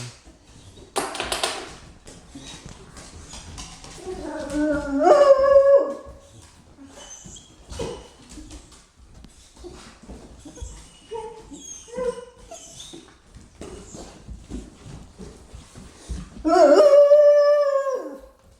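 Dogs howl and whimper in a house early in the morning, two loud rising howls at start and end with softer whines, scuffles and a door sound between.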